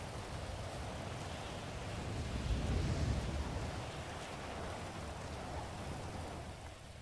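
Steady rain in a GTA roleplay game falls as a soft, even hiss that swells slightly in the middle and then settles, with no voices.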